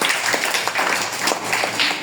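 A classroom of students clapping together, a short burst of loud, steady applause that continues throughout.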